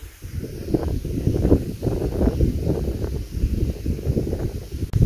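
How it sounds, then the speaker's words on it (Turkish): Strong wind buffets an outdoor catfishing spot, a steady, rough, rumbling roar that pushes on the microphone for the whole stretch, loud and unbroken, with no voices. "aşırı rüzgar var"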